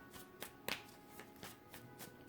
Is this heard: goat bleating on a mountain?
no